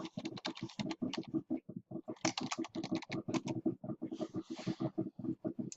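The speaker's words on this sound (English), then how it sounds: "Just have to type my password in right." A password being typed on a computer keyboard: a quick, irregular run of close, crisp key clicks with brief pauses, some keystrokes heavier than others, and a faint voice in the background.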